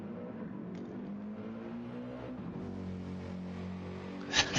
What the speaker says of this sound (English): So loud. Sounds like he has two engines in there.